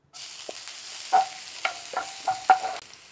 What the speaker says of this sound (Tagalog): Igasa na natin dito yung ating sibuyas.